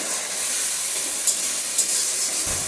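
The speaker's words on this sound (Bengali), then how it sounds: "আমি একটু জল দিয়ে সমস্ত মশলাটাকে কষিয়ে নিচ্ছি" Spice paste sizzles and hisses steadily in a hot pan just after water is added, a loud, continuous frying hiss with a couple of brief spits, and no talking.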